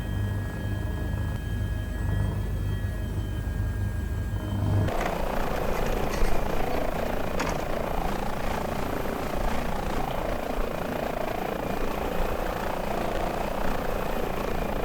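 An Airbus H145 helicopter hovering in Microsoft Flight Simulator 2020 gives off a steady, loud turbine and rotor drone that thickens into a fuller, rougher roar partway through and then holds constant.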